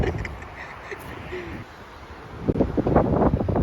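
Strong cold wind blows outdoors before incoming snow, a rough, gusty roar buffeting the microphone and swelling louder and more turbulent toward the end.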